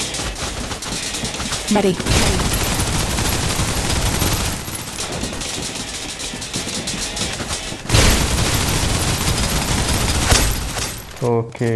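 Sustained rapid turret gunfire in the video game Snowbreak: Containment Zone, a loud dense barrage running nearly the whole time with a brief lull, as a voice speaks a couple of short words.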